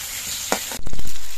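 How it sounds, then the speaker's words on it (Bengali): Potato and eggplant pieces fry in hot oil while being stirred, a steady sizzle broken by a short scrape and then a burst of louder crackling as the pan is moved, with no talk. "আলু আর বেগুনগুলো তেলের সঙ্গে নেড়ে চেড়ে বেশ কিছুক্ষণ ভেজে নিতে হবে"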